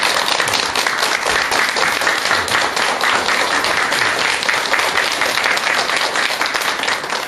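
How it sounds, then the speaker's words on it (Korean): Dense, steady audience applause in a lecture hall during a talk on suicide psychology, loud and continuous throughout with no speech over it. "여러분 큰 박수 좀 부탁드리겠습니다."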